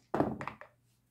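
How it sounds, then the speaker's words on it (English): Three dice tumble onto a table during a Zombicide board game, giving a quick cluster of soft wooden-sounding thunks and rattles in under a second, close by, followed by quiet. "So, Khaleesi, you can roll it. So 3 dice"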